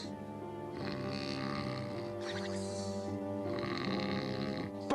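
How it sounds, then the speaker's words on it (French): Loud, drawn-out snoring from a cartoon wolf, a rasping, rumbling breath sustained over several seconds with shifting tone, close and dominant, with no speech over it. "Je n'aurais jamais imaginé qu'une vieille dame puisse ronfler aussi fort."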